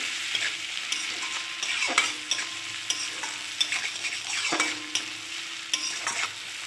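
Ginger and cumin paste with fish roe frying in a pan gives a steady close sizzle, with spoon scrapes and stirring clatter breaking through every second or two. No one speaks.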